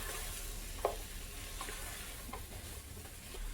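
Two cloves of fresh garlic stirred into a simmering vegan sweet potato chili, a soft continuous sizzle with a few light spoon scrapes against the pot, faint and close.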